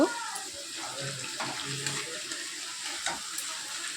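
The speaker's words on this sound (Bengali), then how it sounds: "দেখো এবার তেলের সঙ্গে এটা কষা হচ্ছে" Spice paste fries in oil with reddened potatoes, giving a soft, steady sizzle broken by occasional scraping stirs of a spoon; the sound is close but quiet, with no talking.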